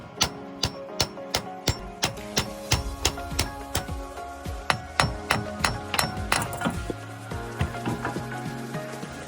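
Sharp metallic strikes on the half shaft of a 2011 Honda Element axle, a steady rhythmic series of hammer-like clanks and clinks, close and loud, with no voices.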